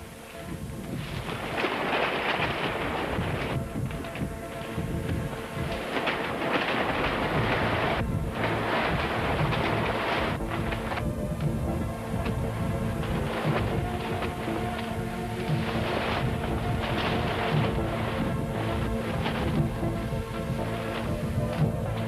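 A sudden, severe island storm, heavy rain pouring continuously with rolling rumbles of thunder swelling and fading, dense and loud throughout.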